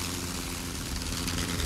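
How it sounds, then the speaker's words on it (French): A Sopwith Camel, the First World War biplane from 1917, runs its engine in a continuous, even propeller drone at moderate loudness, close and unbroken, with no one speaking. "Un des avions les plus célèbres de la Grande Guerre est le Sopwith Camel"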